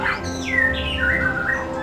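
A white-rumped shama (murai batu) in a molting period whistles inside an aviary, giving sweeping, rising and falling notes over a steady low background hum.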